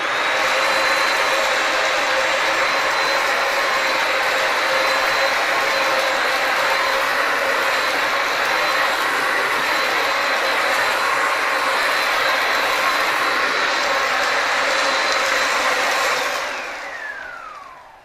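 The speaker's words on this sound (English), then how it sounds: "So we'll actually turn on the vacuum so you can hear it" A Bissell Symphony steam mop vacuum runs on a hardwood floor, a loud steady whirring motor with a high whine that holds evenly, then powers down and fades at the end.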